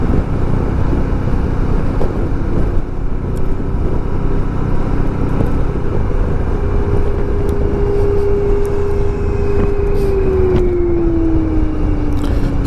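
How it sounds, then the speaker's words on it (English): Steady, loud wind roar while riding a 1994 Honda ST1100 motorcycle, a continuous buffeting rush filling the whole stretch, with a faint engine drone and a rising-then-falling tone near the end. "Let's see what the difference in the wind noise is from the Hero 4"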